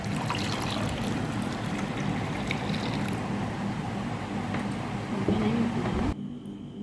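Vegetable and fruit juice being poured into a glass makes a steady, close liquid trickle that runs for several seconds, then stops abruptly.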